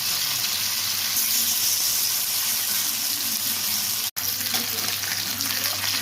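Fish pieces fry in a pan of hot oil for a fish fry, producing a loud, steady, close sizzle with a brief drop-out partway through before the hissing resumes.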